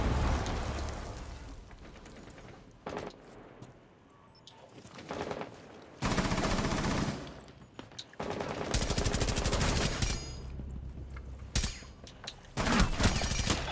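Video game gunfire comes in loud, close bursts of rapid automatic shots, with several sustained volleys broken up by short quieter gaps.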